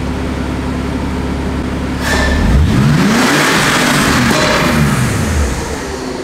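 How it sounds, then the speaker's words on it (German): A BMW E46 fitted with both a turbo and a supercharger idles with a low steady drone, then is floored to full throttle, the engine note sweeping sharply upward and holding loud and close before easing off near the end. "Ich gebe einmal Vollgas"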